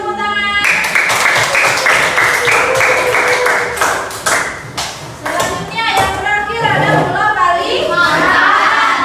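Schoolchildren in a classroom clap together. The hand claps are bright and close, with a few isolated taps, and children's voices and chatter run underneath.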